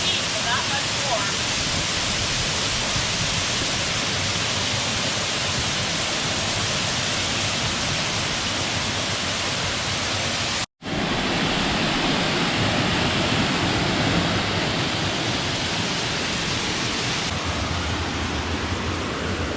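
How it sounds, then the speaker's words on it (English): Waterfall at Smith Falls, Nebraska, a loud, close, continuous rushing roar of falling water, broken by one brief cut partway through. "Yeah, this is just down from the waterfall, which is up there."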